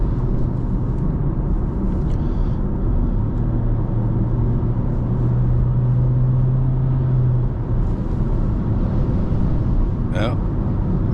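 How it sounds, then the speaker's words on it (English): Steady broadband wind rush and road rumble fill the cabin of a 2025 Honda Civic LX while driving, continuous and fairly loud throughout, with a brief faint chirp near the end. "It's not immune to wind."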